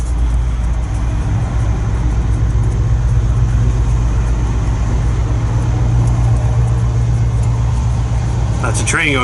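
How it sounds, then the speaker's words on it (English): A massive train going by in the countryside, a steady loud low rumble and roar that holds throughout, with a brief higher squeal near the end. "That's a train going by."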